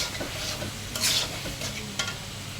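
Beef tongue curry with potatoes and frozen tomatoes being stirred and fried in a pan, a steady moderate sizzle with a few sharper scraping bursts from the spoon.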